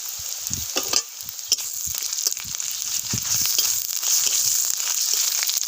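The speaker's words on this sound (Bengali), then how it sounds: "এবার এর মধ্যে আমি আদা বাটা দিলাম।" Ginger paste being stirred into browned onions frying in oil with a bay leaf in a kadai, a continuous sizzle broken by repeated scraping and stirring knocks, fairly close, with no voices.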